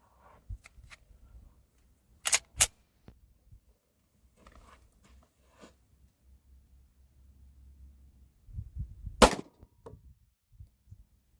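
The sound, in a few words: gunshots from a Smith & Wesson M&P 9 2.0 Compact pistol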